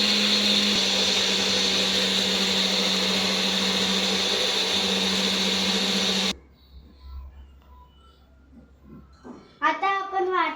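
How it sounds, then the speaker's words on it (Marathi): A kitchen mixer grinder whirs loudly while grinding tomato, garlic, cumin, kokum, coriander and chilli into a paste for rawas fish curry, then stops abruptly, leaving quiet room sounds and a voice speaking toward the end. "आपण ह्याला वाटून घेऊया."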